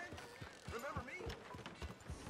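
Hooves of a horse clip-clopping in Red Dead Redemption 2, a steady walking rhythm of soft thuds beneath ambient game sound, with faint creaks and a voice talking briefly.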